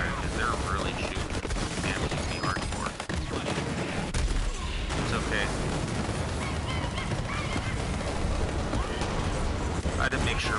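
Enemy gunfire crackles in sustained volleys through a busy video game battle, dense overlapping shots mixed with horse whinnies and constant combat noise while a person talks over it.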